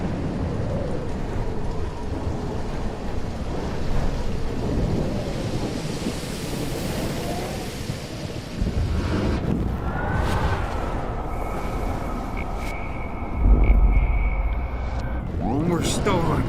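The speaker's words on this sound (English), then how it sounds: "More storms." A thunderstorm in the video game Life is Strange: steady heavy rain roars throughout, with rolling thunder surging midway. Game voices and tonal effects sound over it.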